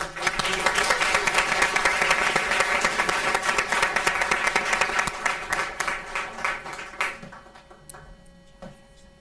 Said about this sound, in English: I have another round of applause.